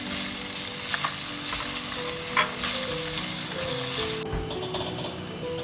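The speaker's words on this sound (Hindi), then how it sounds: "सबसे पहले प्याज और जो लहसुन है इसको सॉटे करूंगी, थोड़ा सा सॉफ्ट हो जाए" Chopped onion and garlic sautéing in a pan, a steady close crackling sizzle with a few light scrapes of stirring and no talking.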